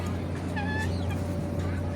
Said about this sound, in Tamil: சேவல் பாருங்க.